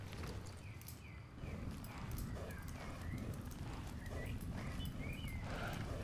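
Horse hooves clip-clop steadily as a rider crosses the map in the game Star Stable, a quiet, even walking rhythm under a soft ambient bed, faint voice-like sounds briefly present.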